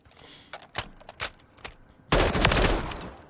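M4 rifle firing in Call of Duty Modern Warfare III: a few separate sharp shots, then a loud sustained full-auto burst close up, alone with no talk.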